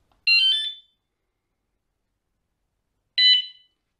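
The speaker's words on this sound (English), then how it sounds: "Now we've stopped. We've locked the bike up, padlocked it up, and now we want to set the alarm. So what we do, we press the top button once." A G Keni smart rear bike tail light sounds two short, loud electronic alarm chirps about three seconds apart, each one high-pitched and buzzy against silence as the alarm is set on a locked bicycle.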